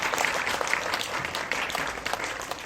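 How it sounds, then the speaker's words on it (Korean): Audience applause closes a film talk event for the movie Aloners, a steady burst of many hands clapping throughout at moderate volume. "마지막으로 박수 크게 보내드리면서 마치겠습니다"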